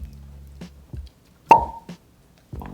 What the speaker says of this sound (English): Are you ready to start with a cork pop?